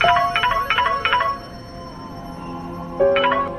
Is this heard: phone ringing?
yes